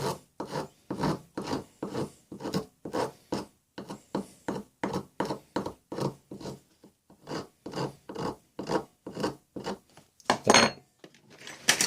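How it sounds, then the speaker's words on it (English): Steady rhythmic rasping of a hand file deburring the metal of an Opinel No. 09 carbon knife, about two strokes per second, close and fairly quiet, with a slight shift near the end. "So you could take your file and just very lightly"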